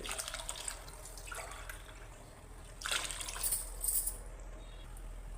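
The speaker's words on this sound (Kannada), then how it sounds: "ಅದೇ ಗ್ಲಾಸಲ್ಲಿ 4 ಗ್ಲಾಸಷ್ಟು ನೀರು ಹಾಕ್ಕೊಳ್ತಾ ಇದ್ದೀನಿ" Water poured from a glass into rice in a pot for pulao made from ration rice, a quiet trickling splash that comes in short bursts and swells near the end, with no talking.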